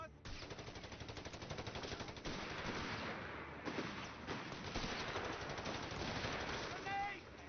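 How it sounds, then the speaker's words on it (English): Sustained bursts of MG-34 machine gun fire in Company of Heroes 3, a fast rattling stream with battle noise and shouted voice lines mixed in. "An MG-34 team has arrived."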